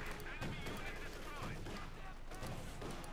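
Base machine guns firing in a Company of Heroes 2 match, with rapid bursts of gunfire and explosions in a dense battle mix under continuous commentary.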